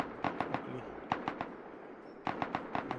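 Bursts of automatic gunfire in the survival video game Rust, three clusters of rapid sharp shots with short pauses between them, fairly close and loud over a low background rumble.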